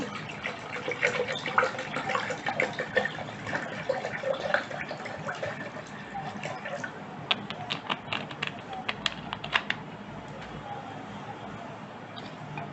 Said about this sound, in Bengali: এখন এর মধ্যে পানি দিয়ে দেব।